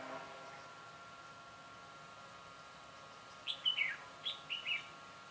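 A red-whiskered bulbul at a bird trap gives a quick cluster of sharp, bright chirps after a few seconds of quiet hiss, fairly faint and slightly distant.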